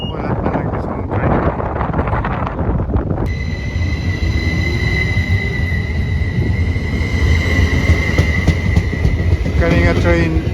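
A Caltrain commuter train rolling toward San Jose rumbles steadily with wind noise, then settles into a sustained high wheel squeal and hum over the low roar, heard from inside the car while people talk.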